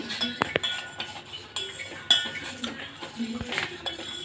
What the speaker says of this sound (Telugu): మిల్క్ పౌడర్ అయితే వేసేసుకున్నాను ఇప్పుడు బాగా కలపాలి